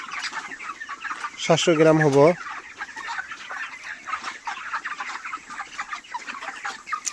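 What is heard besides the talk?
chickens on a poultry farm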